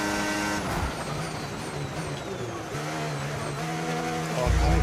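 Race car engine in a racing video game, a steady high whine with shifting pitch as the car revs and changes gear, joined by tire noise and a loud revving surge at the end.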